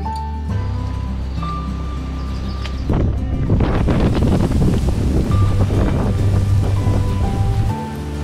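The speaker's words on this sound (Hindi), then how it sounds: "हम लोगों को फेस करना पड़ा काफी ज्यादा तेज हवा और बारिश का" Strong wind and rain batter a monsoon jungle trek near Mumbai and Pune, a loud rushing roar of gusts and downpour that builds midway and buffets the microphone with no talking.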